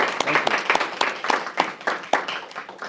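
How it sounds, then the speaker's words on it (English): A small audience gives a round of applause for Mark at a legal Q&A session for creative artists, steady close clapping from a modest group with a few louder individual claps. "let's have a big round of applause for Mark, please."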